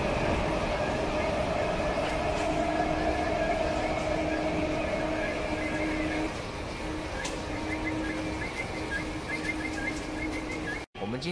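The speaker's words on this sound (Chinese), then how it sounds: "我们今天去 Baltimore 要搭一个 Mark， 它是一个火车，去 Baltimore 的火车。" A MARC commuter train at DC Union Station gives a steady, fairly quiet rumble and mechanical hum, with faint voices in the background.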